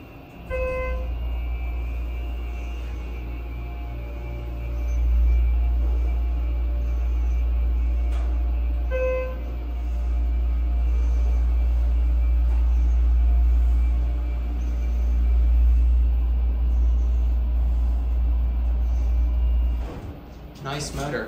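A Schindler HT 330A hydraulic elevator motor hums in a machine room at a Tucson corporate center, a low steady drone that swells and eases under a few brief electronic beeps, with a person talking at times.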